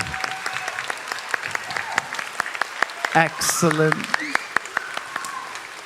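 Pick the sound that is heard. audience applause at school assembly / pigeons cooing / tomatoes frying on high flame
audience applause at school assembly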